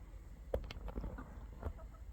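A few scattered clucks from chickens in the Philippines, fairly faint over a steady low rumble of outdoor background noise.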